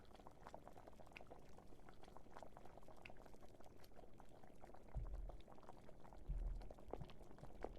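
Liquid being poured in the video game The Sand Man, a steady bubbling, gurgling stream running throughout at low level, with a couple of heavier low thumps near the end and no talk.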